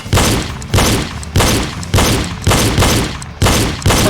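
Repeated pistol gunfire in a shooting drill, seven loud cracks in a steady rhythm about half a second apart, each with a brief decaying ring.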